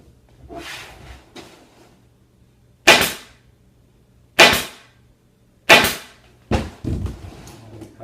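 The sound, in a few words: staple gun stapling scalloped valance to board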